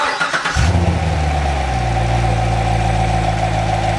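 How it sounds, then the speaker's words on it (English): A C7 Corvette engine cranks and catches after spark plug wire replacement, roaring up briefly before settling into a loud, steady rumbling idle close by. "Just go ahead and start the engine and check operation."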